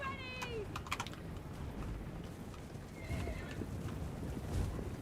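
A horse whinnies loudly near the start, followed by clattering hooves and busy background noise in a Total War: Warhammer 2 battle scene.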